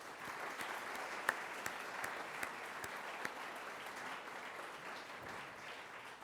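Sustained applause from an audience at a Salute Independence 2022 event, a dense even patter of clapping that holds steady throughout with a few sharper claps standing out.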